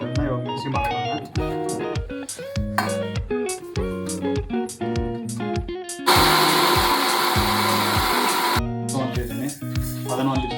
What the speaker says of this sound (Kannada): ಇವಾಗ ಮಿಕ್ಸಿ ಮಾಡ್ಕೊಳ್ಳೋಣ